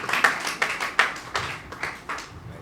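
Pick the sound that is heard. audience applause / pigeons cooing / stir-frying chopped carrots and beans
audience applause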